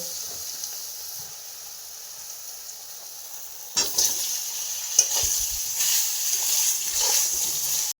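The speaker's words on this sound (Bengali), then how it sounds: "তেলটা গরম হয়ে গেছে এরপর আমি বেগুনগুলো ভেজে উঠিয়ে নেব" Eggplant pieces frying in hot oil, a steady loud sizzle and hiss that swells after a few seconds with stirring and spatter bursts.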